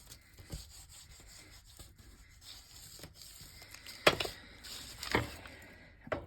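A vintage ruler rubbed firmly along a fold in mixed media paper, soft scraping strokes with a few sharper swipes, close and quiet.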